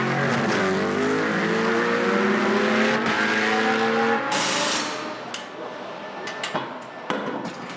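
A Ferrari 333 race car drives on a circuit during free practice, its engine loud and close as it revs through rising gear pulls, then fades and drops away into quieter distant track noise with a few sharp knocks.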